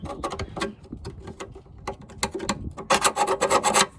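A hand file rasps across the cut edge of a Jeep JL rear bumper fascia to take off the burr, giving quick repeated scraping strokes that grow louder and denser toward the end, close up with no talk.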